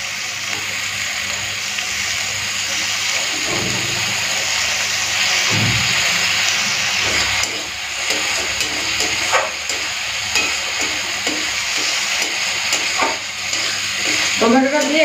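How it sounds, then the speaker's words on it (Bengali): A tomato is mixed into sizzling spices in a pan: steady frying hiss throughout, with a few soft stirring scrapes over the top, close and fairly loud. "টমেটোটা দিয়ে একটুখানি মিশিয়ে নিলাম।"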